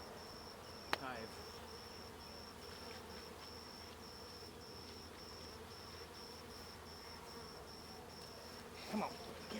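Honeybees buzzing steadily throughout a beehive inspection during a varroa mite test, a continuous faint drone with a few sharp knocks and rustles from handling the hive.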